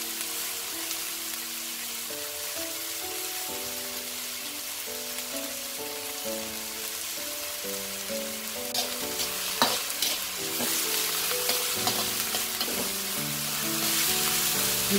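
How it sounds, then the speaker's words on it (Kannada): Okra (lady's finger) stir-fried in a pan after lemon juice is added, with a steady close sizzle and frying crackle throughout and occasional scraping stir sounds, no talking. "ಹೀಗೆ ಹುರಿತಾನೆ ಇರಬೇಕು ಕೈಗಳಲ್ಲಿ."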